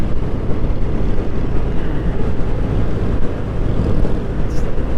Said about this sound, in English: This is a solid motorcycle.